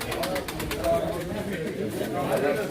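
Pigeons coo steadily at a pigeon auction, a continuous soft murmur of calls beneath an auctioneer and bidders talking loudly.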